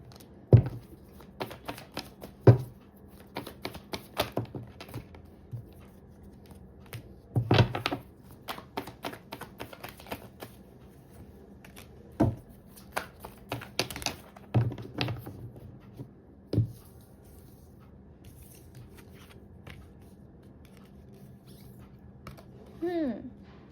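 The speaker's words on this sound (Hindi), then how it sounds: "now let me shuffle the cards" Tarot cards being shuffled by hand, a run of quick papery riffles and soft taps in uneven bursts, close and fairly quiet, separated by short pauses.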